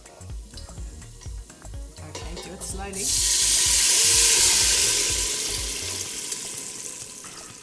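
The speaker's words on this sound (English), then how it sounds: "We're gonna pour in our puree." Puree pours into a hot pan with olive oil and breaks into a loud, building sizzle that swells and lingers. Voices speak briefly just before the hiss.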